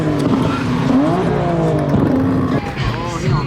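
A Dodge Viper's engine rumbles and rises in pitch at a car meet, loud and close, with shifting revs and people talking over it.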